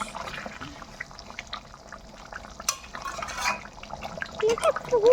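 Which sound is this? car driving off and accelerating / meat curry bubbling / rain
meat curry bubbling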